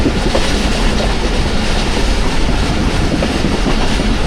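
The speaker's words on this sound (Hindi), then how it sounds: "और ट्रेन स्लो हो चुकी है सुहावा पे।" The Pakistan Express slows on its rails near Suhawa on a rainy early morning, giving a steady, loud, dense rumble with rolling wheel clatter throughout.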